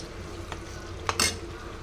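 Mutton keema curry stirred in a pan with chilli powder, a quiet bubbling sizzle with a couple of short scraping spoon strokes near the end, close and without talk.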